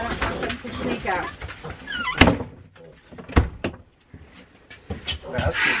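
A homestead shed door is pulled shut to keep piglets in, landing as a sharp, close thunk amid shuffling and animal noise while people talk nearby.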